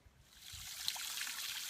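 A small stream trickles over rocks toward a river, a soft steady wash of water with faint hiss and bubbling, fairly quiet and continuous with no voices.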